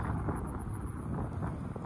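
Wind buffets steadily outdoors during a fishing outing, a continuous low rumbling roar close to the microphone with no clear voices.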